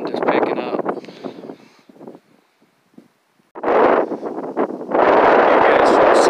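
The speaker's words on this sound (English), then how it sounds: "that wind is picking up" Wind picking up outdoors on a dark, stormy day, loud gusts buffeting the microphone in bursts, dropping to near quiet midway before surging back strongly and holding.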